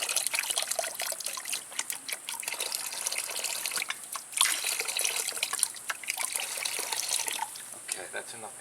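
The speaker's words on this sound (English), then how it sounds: "I'm going to go ahead and pour some acid in here." Muriatic acid is poured into a container while cleaning a saltwater pool's salt generator cell, giving a close, continuous trickling splash.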